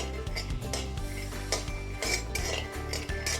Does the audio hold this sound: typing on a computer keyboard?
no